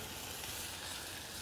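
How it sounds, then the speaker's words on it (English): Garlic and onions sweating in a hot pan give off a steady, close, even sizzle and hiss that holds without pause and has no talk over it. "The garlic doesn't take as long. We're just sweating this."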